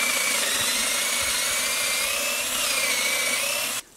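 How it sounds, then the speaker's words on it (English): Power drill boring holes into big logs for electric poultry fence stakes outdoors, a steady close whine that runs continuously for several seconds before cutting off sharply. "We're bringing big logs out here and we're actually drilling holes in them, and then we're just sliding the stakes in them"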